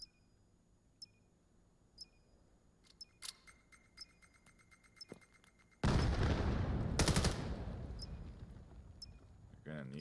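A heavy artillery barrage erupts in the VR shooter VAIL during a competitive match, loud dense booms and blasts arriving suddenly after quieter scattered gunfire and clicks, with a commentator talking over it.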